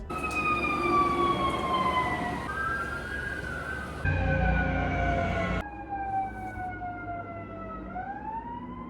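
Emergency vehicle sirens in Canada wail continuously, their pitch sweeping and shifting between tones, loud and close with traffic rumble underneath.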